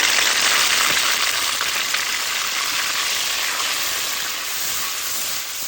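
A paste of ground onion, green chili and tomato fries in a pan of hot oil with whole cumin, giving a loud, steady, close sizzle and hiss that fades slightly toward the end.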